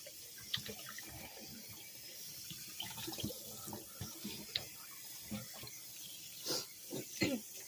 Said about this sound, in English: I'm gonna let the water run like this. Just give it a nice, good rub.